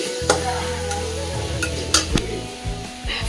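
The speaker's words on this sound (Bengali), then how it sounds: "বিট আর ওলকপি একটা তার মধ্যে দিয়েছে, গ্রেট করে ভাজা হচ্ছে কালো জিরে দিয়ে আর কাঁচা লঙ্কা দিয়ে" Grated beetroot and kohlrabi frying with nigella seeds and green chillies, giving a steady close sizzle under a low hum, with occasional spoon scrapes and light clinks of utensil against the pan.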